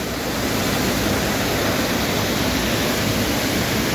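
Jarogo Waterfall in Swat roars as a loud, constant, dense rush of falling water, a close wall of hiss that stays even throughout with no voices.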